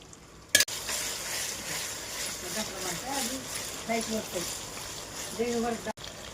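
Tamarind fish curry with spices is stirred in a pan, giving a steady close sizzle and scraping that runs throughout, with faint tonal background sounds.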